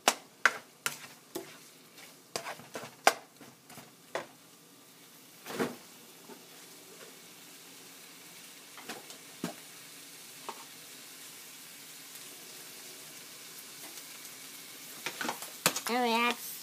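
Congolese fried rice being stirred in a frying pan: a steady soft sizzle with scattered sharp scrapes and clicks of the utensil against the pan, busier at the start and end.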